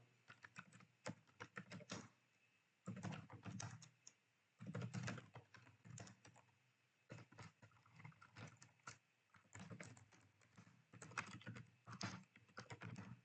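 Someone types a prompt on a keyboard in several quick bursts of soft, close clicking separated by short pauses, faint and without any talk.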